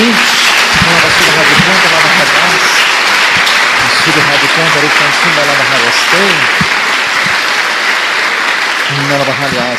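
A church congregation gives loud, sustained applause during a worship service, with voices calling out and singing over the steady clapping.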